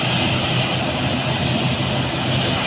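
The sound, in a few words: passenger airplane engine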